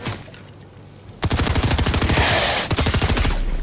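Rapid automatic fire from the lock-on pistol in Fortnite, loud dense strings of shots after a quieter start, continuing in near-unbroken bursts to the end.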